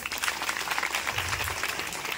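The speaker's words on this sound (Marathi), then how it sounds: "तुम्हाला सर्वांसाठी एकदा जोरदार टाळ्या" A crowd at a public civic felicitation event in Satara claps steadily and densely for the whole short stretch, a continuous wash of applause with no pauses.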